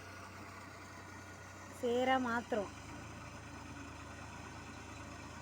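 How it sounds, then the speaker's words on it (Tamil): A tractor engine hums at a steady low idle-like drone while ploughing a paddy field, heard from a short distance, with someone speaking briefly over it. "இந்த மாதிரி இருக்கிற நிலத்தை தான் இப்போ அந்த டிராக்டர் வச்சு உழுது"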